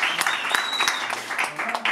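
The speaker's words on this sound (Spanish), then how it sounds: "Un aplauso" A round of applause at the official weigh-in for a world championship boxing bout, a crowd clapping continuously and fairly loudly, with voices and cheers mixed in throughout.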